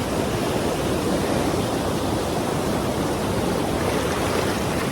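Water rushing down the Galpoththa natural rock slide in Sri Lanka, a loud, dense, unbroken roar of flowing and splashing water, close and constant throughout.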